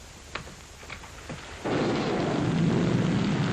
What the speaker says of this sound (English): The rain that's falling down, sir.